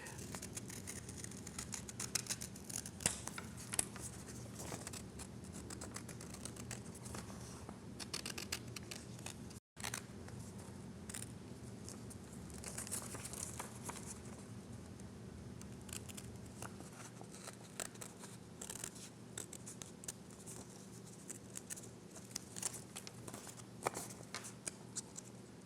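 Quiet, repeated snipping of sharp scissors inside a moving car, a steady run of small crisp cuts over a low rumbling background, pausing briefly partway through.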